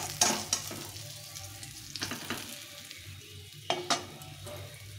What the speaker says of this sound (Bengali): এই তেলে বাকি মাছগুলো ভেজে নেব।